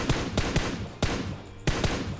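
Gunfire in the mobile battle-royale game PUBG Mobile: loud, close shots in irregular bursts, a cluster of quick cracks followed by single heavier reports, with no talk over them.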